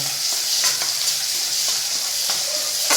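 Tomato and salt sautéing in a hot pan, a loud continuous close sizzle with a few soft spatula scrapes and stirs.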